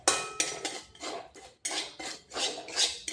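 Dry semolina stirred in a wok, with a spatula scraping and rasping across the metal in rhythmic, close, gritty strokes separated by brief pauses.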